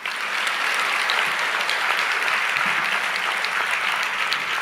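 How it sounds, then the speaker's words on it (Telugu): A church congregation claps steadily through a Telugu Christian sermon, a dense, continuous wash of many hands at even loudness for several seconds with no speech over it. "ఇప్పుడు కొట్టరు చప్పట్లో."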